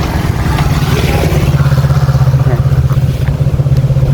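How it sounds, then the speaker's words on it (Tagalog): A small motor scooter engine putters loudly and close by, its rhythmic chug holding steady for several seconds. "Ito yung mga scooter na for rent nga."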